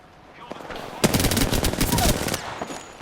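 Rapid automatic gunfire in Apex Legends during a squad ambush, dense bursts of rattling shots starting about a second in and continuing loudly for over a second before trailing off.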